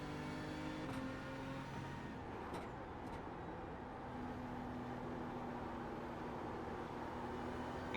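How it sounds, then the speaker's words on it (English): Engine drone of a BMW M4 GT3 in iRacing at Watkins Glen during an IMSA race, with another car coming past; a steady, fairly even engine roar holds throughout, with tonal bands shifting as the passing car moves by. "I've got a car coming past"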